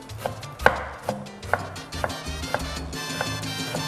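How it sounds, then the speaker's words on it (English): A knife chops onions finely on a board with steady, evenly spaced, close, crisp knocks, about two per second, with no talk. "we're going to cut these onions down a bit fine."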